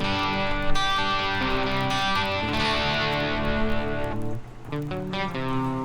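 An electric guitar with mild overdrive and a shimmering, swirling chorus effect plays a steady chordal lick, with a brief dip near the end.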